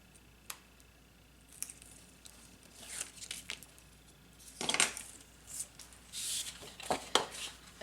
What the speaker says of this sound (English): So let me remove the tape.